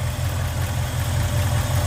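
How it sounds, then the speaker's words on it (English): A Ford Fairlane's original engine, around 129,000 miles, idles steadily and smoothly, a close, even low rumble that holds unchanged throughout with no voices. "This is the original engine in this car."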